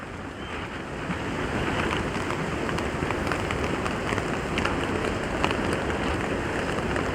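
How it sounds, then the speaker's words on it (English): Heavy rain pours down steadily and without a break at dawn in the bush, with wind up, a dense continuous wash of drops that stays loud and even throughout. "And that rain just keeps coming, keeps coming, keeps coming."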